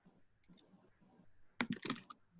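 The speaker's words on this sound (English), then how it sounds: "just random typing" Soft, sparse keystrokes on a computer keyboard give way to a louder, faster cluster of clicking and tapping near the end, close and quiet overall, with no voices.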